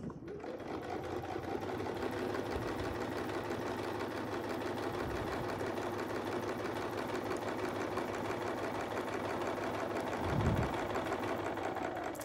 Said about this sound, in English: So I'm just going to try to get myself real tight there so I can sew on the existing stitch line.